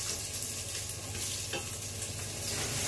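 Onions and garlic fry in oil in a pan, giving a steady, close sizzle with soft stirring scrapes throughout, and no one speaks.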